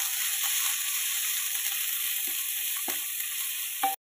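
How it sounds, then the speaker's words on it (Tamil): Grated garlic and ginger sauté in a hot pan, a dense, bright, constant sizzle up close, with a few faint spoon scrapes and a sharp clatter right at the end. "1 துண்டு இஞ்சி துருவி வச்சுருக்கேன். இதையும் சேர்த்து நல்லா வதக்கிக்கலாம்."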